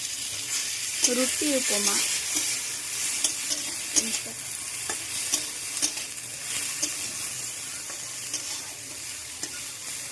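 Onions sizzling steadily in a hot pan as they are stirred and scraped, with a constant frying hiss throughout and a voice speaking briefly over it near the start.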